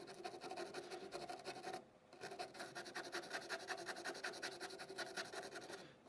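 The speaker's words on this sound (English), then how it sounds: "get these rails good and scrubbed up a little bit" Steady rhythmic scrubbing on the contact rails of a vintage Acoustic Control Corp 260 guitar amplifier, close and continuous, with a short pause near the two-second mark before the rasping strokes resume.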